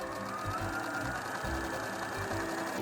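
A sewing machine stitches a seam on a reversible origami handbag, running as a steady, continuous mechanical hum with rhythmic low thumps from the needle, close up and with no talking.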